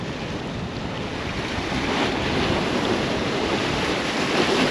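Strong wind buffeting a seaside jetty during surfcasting, a loud continuous roar of gusts against the microphone with surf rumbling beneath, rising slightly toward the end.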